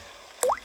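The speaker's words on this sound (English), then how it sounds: "Daddy Pig is using a bucket to catch the drips." A single water drip plops into a bucket with a short, bright rising squish. It is isolated and close against a faint background.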